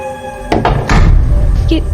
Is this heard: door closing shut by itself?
yes